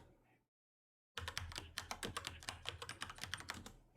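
A password typed on a computer keyboard, a quick run of crisp, close key clicks in an uneven rhythm after a brief silence.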